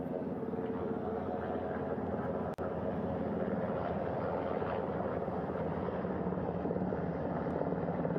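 A helicopter hovers over a ship's flight deck just across from the bow, its rotor producing a steady, dense chopping roar at moderate distance, with one sharp click partway through.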